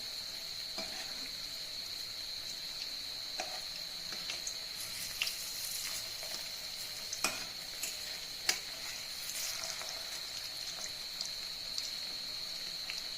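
Whole mung bean koftas fry in hot oil with a steady, thin, high sizzle, broken by scattered soft clicks and pops as they are turned.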